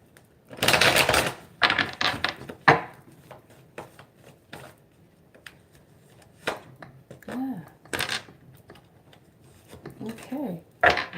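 Tarot cards being shuffled by hand, irregular bursts of riffling and slapping card sounds close to the microphone, with quiet gaps and faint vocal sounds in between.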